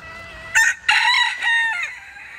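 Bantam chickens in a pen at a city park: a rooster crows loudly and close, in broken bursts trailing into a drawn-out final note, with faint clucking around it.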